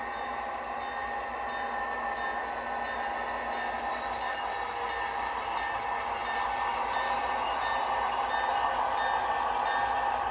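An SD38 model locomotive with DCC sound runs on a Seaboard Central model railroad layout, giving a steady, continuous mechanical hum and rumble at a moderate level with no talk.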